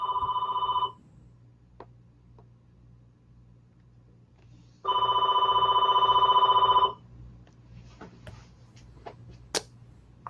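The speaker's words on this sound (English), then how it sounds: "I think your phone's ringing" A telephone bell rings in two bursts, a short ring then a longer one about two seconds, loud and electronic over a quiet hum with faint clicks.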